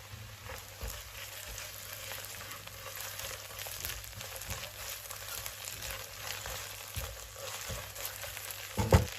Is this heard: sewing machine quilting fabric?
no